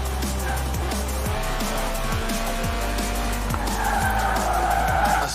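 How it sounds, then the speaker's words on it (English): A Lotus Elise Sport 190 (1.8-litre, 190 horsepower) slides through a long skid in Forza Horizon 4. A steady engine drone sits under a continuous tire squeal that swells louder toward the end, close and loud throughout. "A serious slide there."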